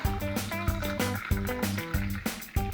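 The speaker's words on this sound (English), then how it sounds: "We pour in our hot milk." Hot milk poured into a glass while making Dalgona coffee, a continuous splashing, gurgling fill heard close up, with soft background music playing beneath it.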